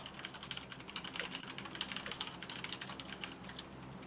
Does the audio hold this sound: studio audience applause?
no